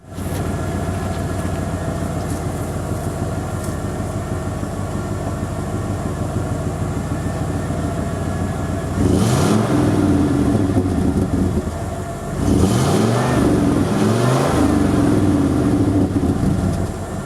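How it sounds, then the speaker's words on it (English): A 1995 Ford F-150 with a 351 Windsor V8 and stock exhaust idles with a steady low rumble, then gets two strong revs that swell in pitch and fall back, loud and close. "I'll give it a couple good revs."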